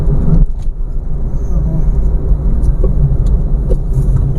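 A car cruises in third gear through a traffic jam, with a steady low engine and road drone throughout, close and even, and a few faint clicks on top.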